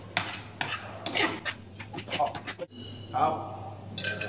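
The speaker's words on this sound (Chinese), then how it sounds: "然后搅拌。" Cucumber and egg mixture stirred in a bowl for a stir-fried tomato and scrambled egg dish, with clinking and scraping of a utensil against the dish in uneven strokes, close by, and a brief spoken word.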